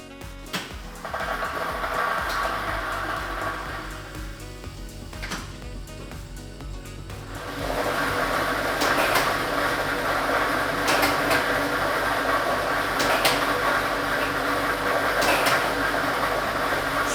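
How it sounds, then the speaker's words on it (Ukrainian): A Ukrainian lottery ball drawing machine runs with a continuous mechanical whir and rattle of tumbling balls. The noise grows louder and denser partway through and holds steady to the end. "І ми вмикаємо лототрон"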